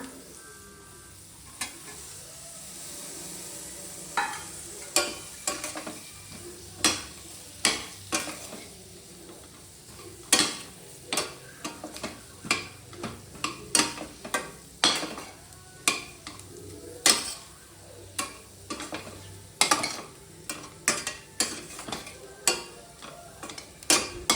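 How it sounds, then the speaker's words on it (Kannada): Egg frying in a pan, steady soft sizzle under repeated sharp taps and scrapes of a spatula against the metal, close and fairly quiet, with no one talking. "ಒಂದು 2 ಮಿನಿಟ್ಸ್ ಚೆನ್ನಾಗಿ ಫ್ರೈ ಆಗಲಿ"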